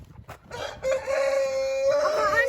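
A rooster crows loudly nearby in one long drawn-out call, with a few short clucks and rustles just before it.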